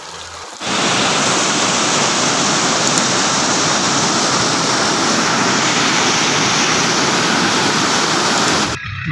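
A canal brimming to both banks in the rainy season rushes with a loud, steady broadband roar of flowing water. The sound is close and constant with no voices, starting abruptly and cutting off near the end.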